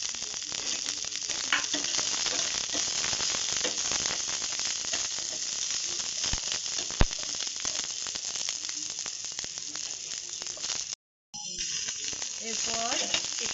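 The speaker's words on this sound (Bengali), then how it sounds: "এরপর একটু পেঁয়াজ আর রসুনটা লাল করে একটু ভেজে নেব" Onion and garlic sizzle steadily as they fry in a pan, a continuous close hiss with faint stirring scrapes, briefly cutting out near the end before resuming.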